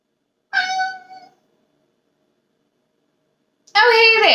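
A person imitates a cat's meow, two short vocal meows separated by a long silence, the second louder and harsher, close to the microphone.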